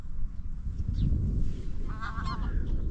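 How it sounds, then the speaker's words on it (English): Canada geese honk on the Essex coast, a few clear nasal calls heard at moderate distance over a steady low rumble of wind or outdoor background noise. "Canadian geese."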